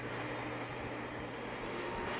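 Airplane engine in a flight video game during taxi, a steady, loud droning hum with a low tonal whine running continuously without pause.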